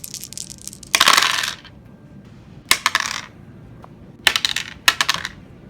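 Dice rattle and clatter onto a tabletop during a Deadzone miniatures battle, several short bursts of rolling and tumbling, close and crisp with no talk.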